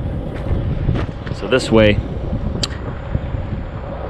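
Gusty wind buffets a flatbed truck load that is being tied down and tarped, a low, steady rumble roaring against the microphone while someone speaks briefly.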